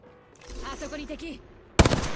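Rapid gunfire bursts from the Apex Legends battle royale video game, a loud sharp volley erupting near the end after a stretch of game voice lines and softer effects.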